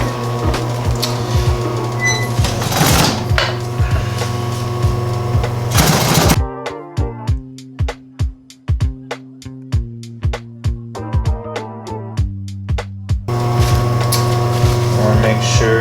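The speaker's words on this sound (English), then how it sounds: "we're just going to sew at 1/4 of an inch all the way along" A sewing machine stitches a leather duffle bag in bursts of rapid mechanical clatter, with pauses between runs, set between stretches of steady background noise and voice.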